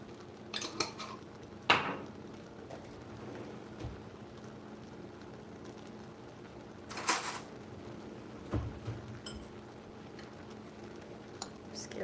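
A utensil stirs food in a pot during an improvised Sunday dinner. Sparse metallic clinks and scrapes stand out over a quiet room, with a couple of louder knocks against the pot.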